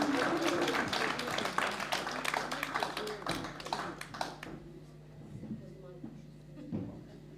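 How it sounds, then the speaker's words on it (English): An audience at a festival launch night applauds with dense, brisk clapping that fades out after about four seconds, leaving faint room noise and a few scattered sounds. "So, big round of applause for Donald."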